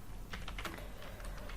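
Quick bursts of computer keyboard typing as a terminal install command is entered, with a few clustered key taps, close up and fairly quiet.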